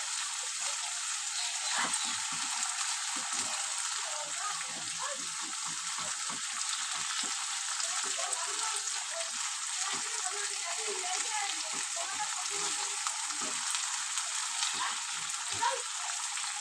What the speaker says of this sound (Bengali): ভালো করে মশলাটা কষিয়ে নেব। যত ভালো করে মশলাটা কষাবো তত টেস্ট আসবে।